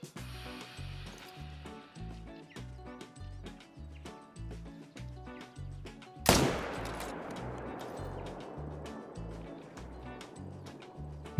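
A single loud rifle shot in the hunting game theHunter: Call of the Wild cracks out sharply and trails off in a long echoing decay, heard over a steady rhythmic music loop.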